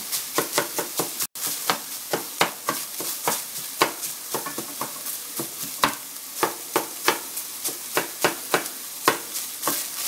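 Browned sausage crumbled and stirred in a frying pan for biscuits and gravy, a steady sizzle under repeated close scraping and tapping strokes of a utensil, no talking.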